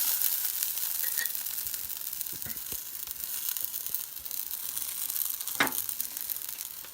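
A vegan burger patty sizzles in a hot pan, a steady close crackling hiss with a few sharp pops and faint clinks.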